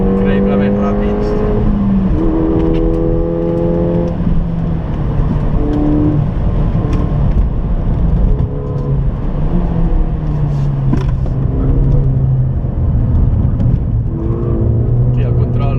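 A Ford Fiesta ST200 rally-style street car accelerates on a wet track at Can Padró, its engine rising in pitch through repeated gear changes, loud and continuous under steady talk.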